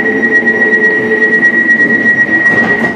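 A London Elizabeth line train runs between Paddington and Abbey Wood, with a loud, continuous rumble and a steady high electric whine heard close up from inside the carriage.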